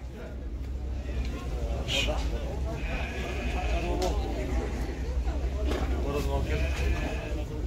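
Sheep at a livestock market bleat several times, some calls near and some farther off, heard under steady talk from people nearby.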